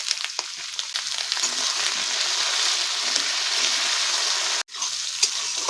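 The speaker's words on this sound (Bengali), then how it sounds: "দিয়ে এটা ভালো করে আমরা ভাজবো" Sliced ridge gourd frying in a pan with salt and turmeric, a steady close sizzle with occasional stirring scrapes and a brief break near the end.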